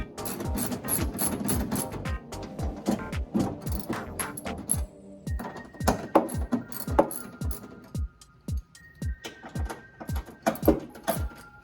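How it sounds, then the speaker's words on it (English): A 10mm socket wrench backs bolts out of a Ford Maverick's bed panel, giving close, quick runs of ratcheting clicks in uneven bursts with short pauses between. "I have a 10mm socket wrench here, so let's remove these and see what we got underneath."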